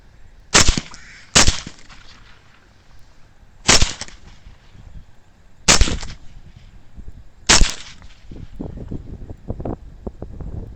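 Five sharp, loud rifle shots ring out outdoors during a wild hog hunt, spaced unevenly over several seconds, each with a brief decaying tail, over light wind noise and rustling.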